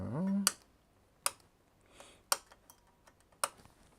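A few separate clicks on a newly built computer keyboard, four sharp isolated keystrokes spaced about a second apart after a brief low hum at the start, fairly quiet and close.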